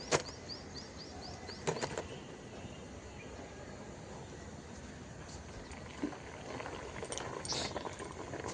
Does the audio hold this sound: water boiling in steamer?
yes